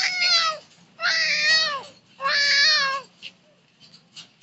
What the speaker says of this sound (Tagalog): Tumahimik yung pusa.